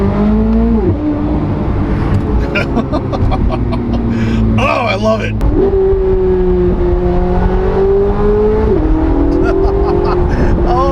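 A C8 Corvette Z06 engine revs loud and close through gear changes, its pitch climbing in steady pulls and dropping at each shift, with someone talking excitedly over it.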